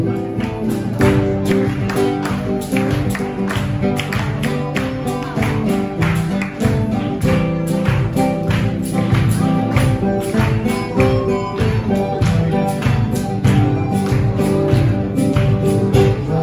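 Congregation clapping hands in steady rhythm along with worship music at a church gathering, loud and continuous over singing and instruments.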